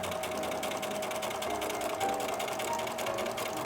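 A sewing machine stitches a straight seam steadily at a moderate pace, its needle producing a rapid, even mechanical rattle throughout.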